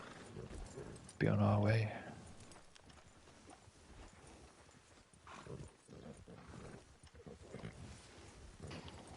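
Horses' hooves clip-clopping steadily in Red Dead Redemption 2 Online during a riding expedition, a loud burst early then a continuous moderate trot under brief talk.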